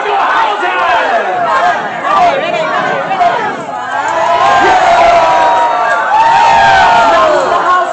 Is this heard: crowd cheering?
yes